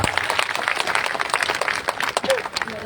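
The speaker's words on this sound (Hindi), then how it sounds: "जोरदार तालियों से स्वागत करता हूं" Audience applause at a regional party workers' conference in a village gathering, scattered uneven clapping from a crowd at moderate distance, with a voice talking over it.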